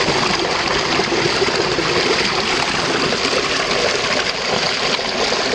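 Pond water drains out in a loud, steady rush, a continuous stream-like gush that holds even and close for the whole stretch with no voices over it.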